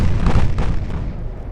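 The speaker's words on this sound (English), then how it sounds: "with her flash fire destroying the aft turret, she can no longer return fire" Loud deep explosion from a warship's flash fire destroying its aft turret in the naval game Ultimate Admiral: Dreadnoughts, a heavy booming burst that rolls off into a fading rumble, no speech.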